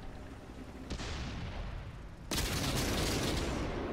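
Tank cannons fire in World of Tanks: a sharp blast followed by rolling rumble, then a second, louder shot that leaves a heavy, sustained roar of battle noise.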